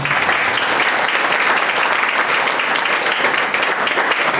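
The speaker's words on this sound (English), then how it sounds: "let's all give a big round of applause for him." Warm applause from a workshop audience in an MBA department hall, a thick wash of many hands clapping loudly and continuously for a few seconds.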